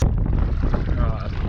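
Strong wind buffets the microphone over shallow water at a Yorke Peninsula shore during crab raking, a dense, loud rumble that holds steady through the whole short moment with no clear talk.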